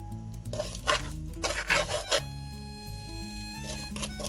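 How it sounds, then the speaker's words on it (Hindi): Boiled eggs being roasted and stirred in masala on a low flame for egg masala curry, with scraping, rasping strokes of a spatula against the pan in short bursts and steady background music running underneath. "अब हम इनको लो फ्लेम पे अच्छी तरह से भूनेंगे ताकि इनका कलर चेंज हो जाए और ये क्रिस्पी भी हो जाए"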